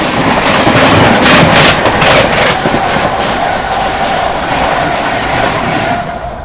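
Bihar Sampark Kranti Superfast Express rolling along the tracks, heard from inside a 2AC coach: loud steady rumble with rhythmic clickety-clack of wheels over rail joints, easing slightly toward the end.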